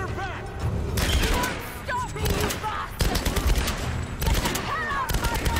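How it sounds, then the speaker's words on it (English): Bursts of gunfire in Tomb Raider (2013) crackle in rapid volleys and separate shots alongside game sounds and voices, with loud clusters recurring through the passage. "Do you notice how I'm missing and wasting all my ammo?"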